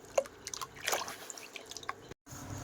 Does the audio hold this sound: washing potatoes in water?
yes